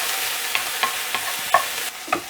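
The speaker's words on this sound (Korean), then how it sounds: "다진 마늘 2분의 1스푼과 파를 넣고 약한 불에서 볶아주세요" Minced garlic and chopped green onion stir-frying over low heat, a close, steady sizzle punctuated by a few regular spatula taps and scrapes, no talking.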